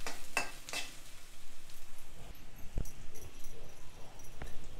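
Taro root curry stirring and frying in a pan, with a steady low sizzle, a few sharp scrapes of a spoon against the metal, and scattered clinks throughout.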